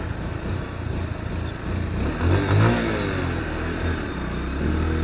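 Engine of a Bajaj Pulsar 150 BS4 motorcycle running and revving up, with a louder swell in the middle before settling back to a steady idle rumble, close by with no talk.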